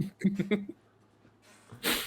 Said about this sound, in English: now he's sneezing from all the spores entering his nostrils